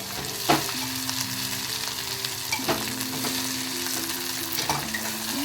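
Green chillies are stirred into cluster bean curry frying in a pan, a soft constant sizzle broken by a few scraping strokes of the spoon against the pan, close and fairly quiet.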